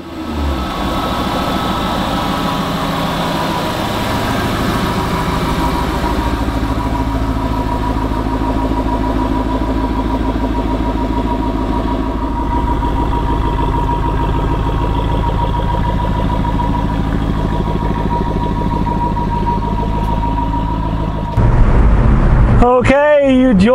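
A Jaguar Project 7 engine idles with a steady, close, low rumble that holds for about twenty seconds before a short burst of handling noise near the end.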